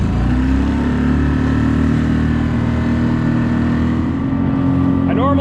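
A Pond Prowler outboard motor fitted with a 6 horsepower carburetor and an 8-inch propeller runs steadily and loudly near the listener, with a dense, constant engine drone throughout.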